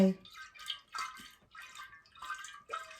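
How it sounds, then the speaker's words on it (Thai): Clean cold water is swirled and rinsed in a jar while Japanese plum liqueur is prepared, giving soft sloshing splashes in a few separate bursts, quiet and close. "ก็จะใส่น้ำแบบนี้เนาะ ก็ล้างไปสักสี่ห้ารอบเนาะ ใช้น้ำสะอาดล้างไป"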